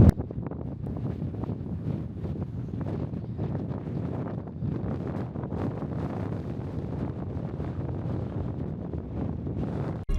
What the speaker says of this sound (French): il y a tellement de vent et il est tellement fort